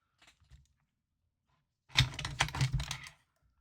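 A plastic pry tool repeatedly presses the button on a Nintendo DSi LL, submerged in isopropyl alcohol, making a burst of rapid clicky taps about a second and a half long after a few faint ticks.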